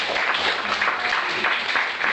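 An audience at a poetry reading claps and applauds, a dense, steady wash of many hands filling the room throughout, with no voices over it.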